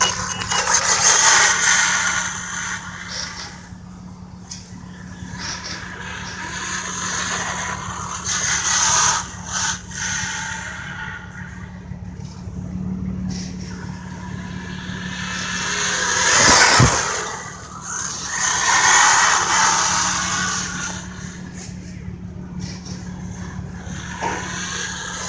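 An HPI Ken Block RC car with new tires and a new body, running on a 2S LiPo, gives a continuous electric whine that rises and falls as it speeds about, swelling loudest as it passes close near the middle.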